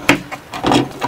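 A knife shaves at a handle to flatten it, making several short scraping and rasping strokes up close at an uneven rhythm.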